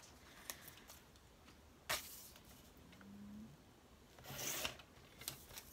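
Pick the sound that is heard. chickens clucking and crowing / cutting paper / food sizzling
cutting paper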